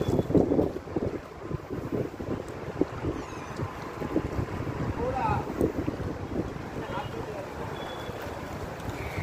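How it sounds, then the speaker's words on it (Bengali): Strong wind at a Ganga ghat buffets the microphone in heavy, uneven rumbling gusts, with a person talking briefly over it. "ভালোই হাওয়া দিচ্ছে গঙ্গাঘাটে দেখো"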